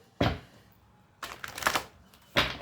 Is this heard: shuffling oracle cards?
yes